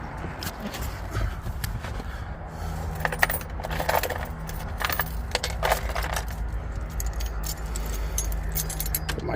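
A bunch of keys jangles and clinks close by inside a 2008 Ford E350 van with a 6.0 Powerstroke diesel, in a scatter of metallic rattles over a low background hum before the ignition key goes in.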